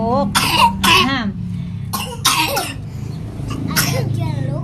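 Someone coughs repeatedly while sick, harsh throaty bursts that come in pairs and singles, close and loud over a constant background hum, with voiced rasping sounds between the coughs.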